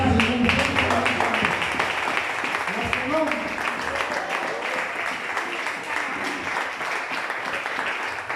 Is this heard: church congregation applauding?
yes